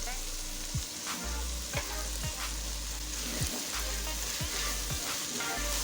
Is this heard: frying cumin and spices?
yes